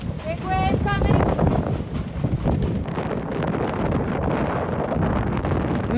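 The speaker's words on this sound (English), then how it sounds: "the wind was just kicking up these huge waves that knocked us back every time we took one on the bow" Wind-driven waves slapping the bow of a sailboat in the rough Malaspina Strait, heavy wind buffeting the microphone with surging water rush and thumps, loud and close throughout.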